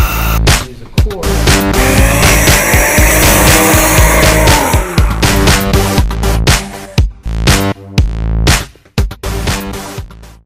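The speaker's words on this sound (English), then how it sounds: "Today, naturally aspirated Jeep JL on 40s on the dyno." A stock naturally aspirated 2018 Jeep JL with the 3.6 engine, an automatic and 40-inch tires runs hard on a chassis dyno, its engine roaring loud and close under load with a whining tire drone before it cuts off and lets off in choppy bursts.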